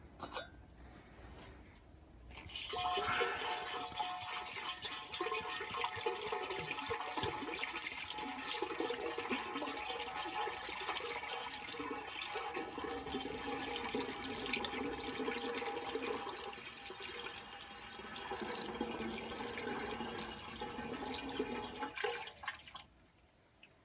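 Tap water runs steadily while empty cider bottles are rinsed out, a continuous close rushing and splashing that lasts about twenty seconds before cutting off.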